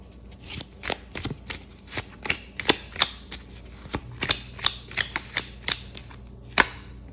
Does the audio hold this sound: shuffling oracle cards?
yes